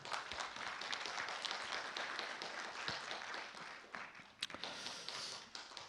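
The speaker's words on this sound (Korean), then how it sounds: "여러분 큰 박수 부탁드립니다." A hall audience at a 2018 green building forum in Korea applauds as a presenter is invited to the stage: dense, steady clapping that sounds quiet and distant throughout, with a few sharper claps standing out.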